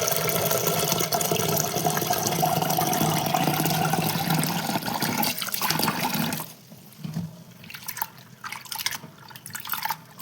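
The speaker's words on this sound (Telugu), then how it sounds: "ఇలా గట్టిగా పిసుకుతూ శుభ్రంగా కడుక్కోవాలి." Lentils for tomato dal rinsed by hand in a bowl of water, a steady loud sloshing and splashing for about six seconds, then quieter scattered drips and swishes.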